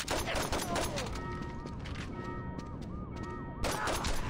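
Saints Row 2 video game gunfire crackles as a dense, continuous volley under game music and effects, fairly loud throughout with a brief rise near the end.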